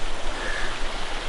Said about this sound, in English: you got the river down here